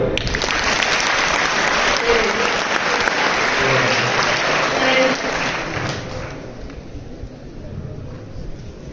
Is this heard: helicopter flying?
no